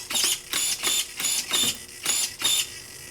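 A steering servo in a Carisma Subaru Brat RC car whirs in five quick bursts after the battery is connected, a close, even whining sweep repeating about every half second.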